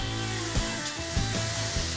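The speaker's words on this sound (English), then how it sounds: "Then we can bring in the spray foam guys and they'll apply it." Spray foam insulation being applied in a house wall cavity, a continuous loud hissing spray with brief bursts and pulses every half second or so, no voices.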